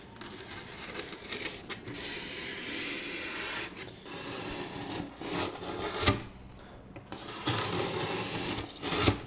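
A blade or cutting tool deepening a scored cut in aluminum jon boat flooring on a 1448 Lowe jon boat, a steady close rasping, scraping grind that runs almost continuously with brief pauses.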